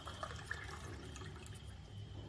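Water pours from a vessel in a kitchen while cooking, a soft, brief trickling splash heard alone and fairly faint.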